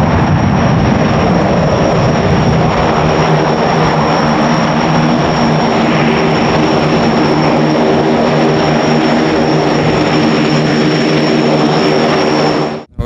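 An Antonov An-26 twin-turboprop military transport lands on a runway, its propellers and engines droning loud and steady at close range with a high whine on top, cutting off abruptly at the end.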